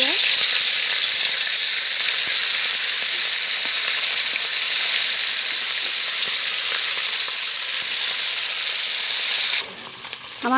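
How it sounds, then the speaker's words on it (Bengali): Fish pieces frying in hot oil in a kadai make a loud, steady, dense sizzle that holds throughout, dropping slightly near the end. "কড়া গরম হয়ে গেছে, কড়াই আমি তেল দেব, দিয়ে মাছটাকে ভেজে নেব।"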